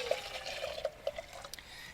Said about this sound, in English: I'm just going to dump the hot water from my kettle into my pouring kettle here